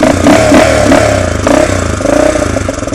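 A 1979 Honda XR500 single-cylinder motorcycle engine revs loudly up close, its throttle rising and falling through a few surges with mechanical clatter underneath, heard alone without voices.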